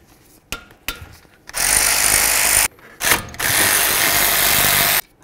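Power tool loosening brake caliper bolts on a 2014–2017 Infiniti QX50 during a front brake job: a few short clicking bursts first, then two long, loud, steady whirring runs separated by a brief pause.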